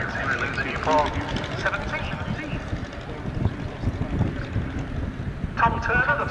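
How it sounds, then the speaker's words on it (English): A World War 1 fighter biplane, a Nieuport 17, lands at a Duxford air display, its engine droning steadily, with wind buffeting the microphone and a voice talking over it. "Tom Turner, the first to land."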